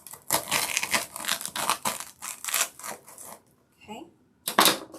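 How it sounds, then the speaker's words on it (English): Scissors snipping a hole to get a cut started while making a patriotic DIY centerpiece, a series of quick crisp cutting and rustling bursts, then a short pause and one last snip. "Let me use my scissors to get a hole started"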